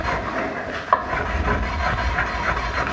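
Steady scrubbing on a porcelain toilet bowl to remove a calcium ring, a continuous close rubbing rasp with uneven strokes and one sharper knock near the middle, with no voices.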